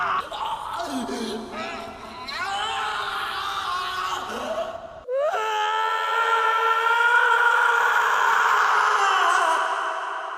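An anime character from Steins;Gate episode 1 lets out a long, high scream, sustained for several seconds, then breaks off and starts again louder and more piercing.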